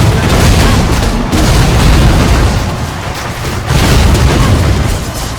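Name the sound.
enemies exploding in a video game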